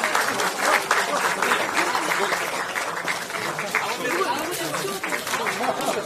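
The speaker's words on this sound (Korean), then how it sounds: "뜨거운 박수로 격려해 주시기 바랍니다." An assembly gives warm applause as a newly elected party floor leader and fellow candidates stand on stage for a flower presentation, with steady, close clapping mixed with crowd chatter throughout.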